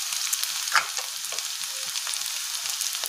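Onions and mixed vegetables frying in a pan for masala upma, a steady close hiss of sizzling oil with a faint stir partway through and no talking.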